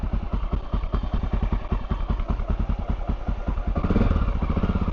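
A Honda XR650L motorcycle engine runs on half choke while warming up, a loud close thumping idle with fast, regular pulses that grow heavier and rougher near the end.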